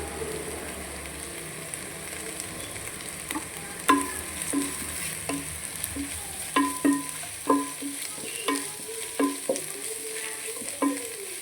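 Curry leaves sizzle in hot oil with ginger-garlic paste while fish biryani is cooked, a steady frying hiss broken by a series of light clinks and scrapes from stirring.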